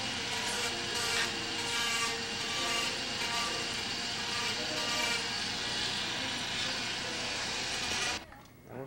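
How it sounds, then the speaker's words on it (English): A flexible shaft tool fitted with a Sandaflex wheel grinds along the edge of a prosthetic socket, giving a steady loud abrasive whir and rasp that runs unbroken and then stops abruptly near the end. "take on a flexible shaft tool, makes it easier for us, and put a Sandaflex wheel on it just to cut away those burrs and finish the prosthetic edge"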